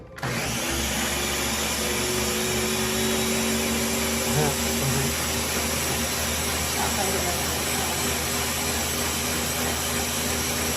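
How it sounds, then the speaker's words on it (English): A powerful countertop blender runs at full speed, giving a loud, continuous, whining roar that barely changes for about ten seconds. Some talk is buried under the machine noise. "Everything goes in the blender, then we're going to blend."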